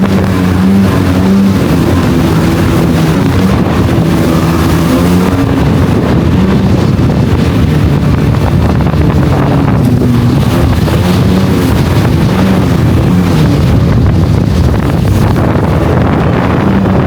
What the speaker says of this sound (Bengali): তারপর আমরা সবাই কিছুক্ষণ জেট স্কি নিয়ে সমুদ্রে